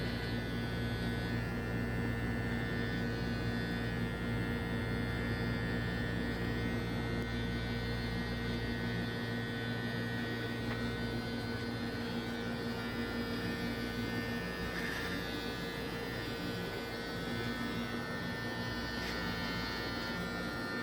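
Barber's electric finishing trimmer buzzing continuously on a beard, a steady close mains-like hum with a bright whine that shifts slightly as the blade moves over the hair.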